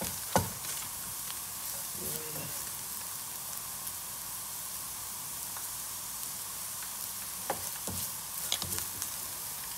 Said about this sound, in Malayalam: ഇപ്പോൾ ദാ നന്നായിട്ട് ലോ ഫ്ലെയിമിൽ വെച്ച് നമുക്കിത് ഇളക്കി കൊടുത്താൽ മതി.